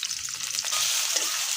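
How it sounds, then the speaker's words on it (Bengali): Onions fry in hot oil with a steady, close sizzle, a bright hiss that swells slightly after the first moment and holds evenly, with no voices. "পেঁয়াজ দিয়ে দিলাম।"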